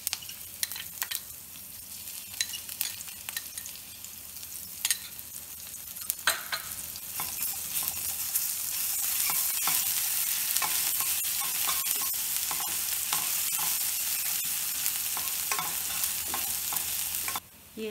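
Curry leaves, green chili and garlic paste sizzle in hot oil for a tomato chutney, a steady crackling fry that swells louder partway through and holds, with stirring scrapes and no talking.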